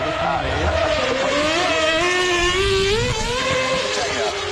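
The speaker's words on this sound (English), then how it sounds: "we're getting all the Formula One cars through" Formula One cars race past at the Goodwood Festival of Speed with a loud, sustained high-pitched engine whine that rises and shifts in pitch, while a commentator talks over the noise.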